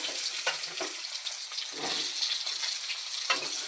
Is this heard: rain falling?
no